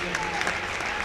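Crowd applauding steadily at a girls basketball region championship game, Kindred against Northern Cass, a dense even patter of clapping that fills the gym for about a second with voices mixed in.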